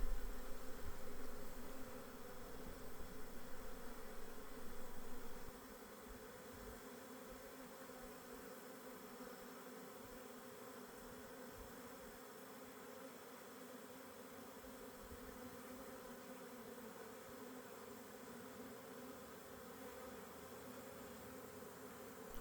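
A honey bee swarm hums in steady, dense buzzing that hangs at a moderate distance in evening light, slightly louder for the first few seconds and then even and continuous.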